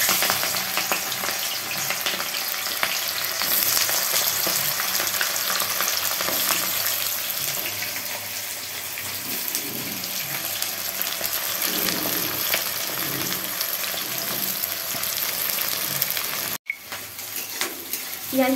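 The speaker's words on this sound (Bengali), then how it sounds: "পেঁয়াজগুলোকে আমি বাদামি রঙের করে ভেজে নেব।" Onions frying in hot oil, a sustained loud crackling sizzle with intermittent stirring sounds and a brief break near the end.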